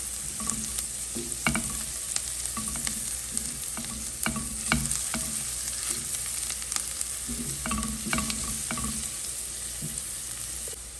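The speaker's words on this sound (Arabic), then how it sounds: "خلونا ننزل الثوم وشوي من الفلفل الحار. نبدأ نقلب." Minced garlic and a little hot chili pepper fry in oil with browned onions in a pan, giving a steady close sizzle broken by repeated scraping stir strokes, with no talking.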